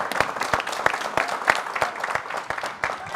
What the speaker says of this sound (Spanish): Un aplauso para Andrés Arroyave.